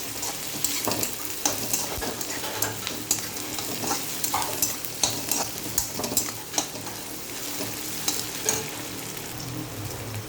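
Small tingora fish fry with onion and spices in a pan for an Assamese mustard curry, a loud dense sizzle with frequent scraping stirs and spatula knocks throughout, with no talking.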